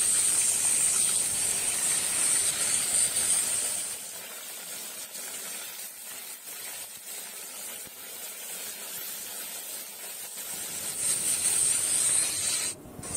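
Eggplant slices frying in hot oil for a festival offering, a steady close sizzling hiss that eases in the middle and swells again near the end, with no talk.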